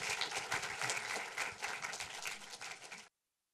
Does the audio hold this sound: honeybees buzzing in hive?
no